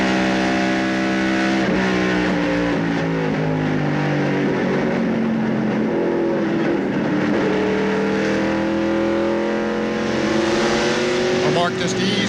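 A 1995 NASCAR Busch Grand National race car engine roars loudly and continuously from a roof camera at Darlington Raceway, its pitch climbing and dropping through gear changes, with a voice talking over it.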